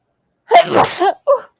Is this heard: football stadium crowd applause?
no